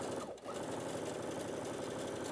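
A sewing machine runs steadily, stitching a side seam in floaty viscose fabric, with a quick stutter near the start before settling into a fast, even, close-up mechanical whir.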